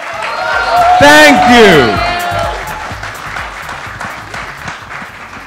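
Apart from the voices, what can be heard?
audience applause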